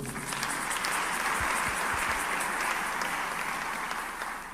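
A church congregation applauds together in a dense, steady wash of clapping that holds for several seconds and tapers slightly at the end.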